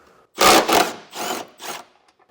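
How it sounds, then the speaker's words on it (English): A wrench works loose the 17mm bolts holding a trailer tie-down on a 2019 Toyota, giving four short, close, scraping ratchet bursts separated by brief pauses. "So it should just be two 17mm bolts we'll need to remove."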